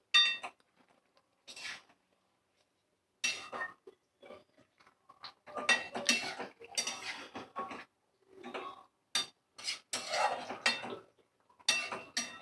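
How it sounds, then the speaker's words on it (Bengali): Utensils clink and scrape against a pot of Rui fish curry cooked with drumsticks, a series of short clattering bursts with pauses, ending with a lid being set down on the pot; no talk. "আর নাড়াচাড়া করে ঢাকাটা দিয়ে দেব আবার।"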